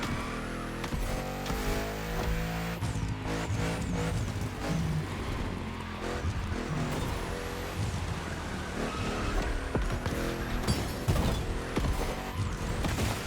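A race car in The Crew Motorfest revs hard while held in third gear, with a dense, continuous engine roar and short tire squeals over busy mechanical noise, loud and up close with no talk.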